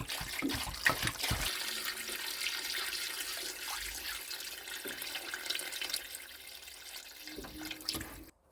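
Water pours steadily into a pot for making kholodets, a continuous splashing gush that runs for several seconds before stopping abruptly at the end.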